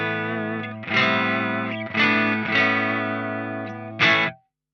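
A clean electric guitar tone through an amp rig with added depth effects: several strummed chords ring out one after another, each swelling and decaying with shimmering sustain, close and loud, ending abruptly.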